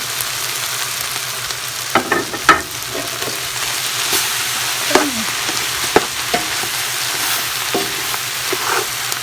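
Chopped bamboo shoots fry in a pan with a steady hiss of sizzling, broken by occasional knocks and scrapes as they are stirred.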